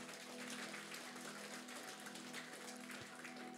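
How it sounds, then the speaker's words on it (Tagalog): Congregation at a church service clapping loudly and steadily throughout, a dense, continuous wash of many hands with a low hum underneath. "Lahat ng naniniwala, pumalakpak nga ng malakas."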